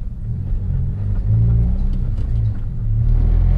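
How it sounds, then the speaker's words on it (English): Turbocharged Honda Accord accelerating hard and bouncing off the rev limiter: a loud, steady low engine roar with rising and stuttering harmonics, heard up close with no talking. "We were banging off rev limiter."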